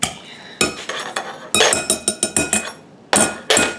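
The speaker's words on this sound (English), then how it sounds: "I need to crush these just a little bit with my potato masher" Blackberries being crushed with a potato masher for freezer jam: a run of sharp, close clinks and knocks as the masher hits the bowl, in irregular bursts with short pauses between them.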